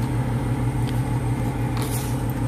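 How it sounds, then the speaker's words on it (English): Street traffic in Iguala, Mexico: a steady, close engine rumble of passing cars and trucks with a continuous road drone and no voices. "More traffic."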